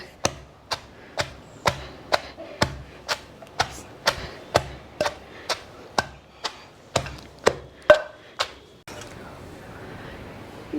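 Mutton kheema is pounded in a stone mortar: about sixteen sharp, evenly spaced thuds in a steady rhythm, close and loud, then stopping and leaving a soft hiss.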